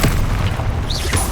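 An Incendio fire spell in Hogwarts Legacy erupts as a loud, booming whoosh of flame that fills the whole moment, with a brief whistling flicker partway through.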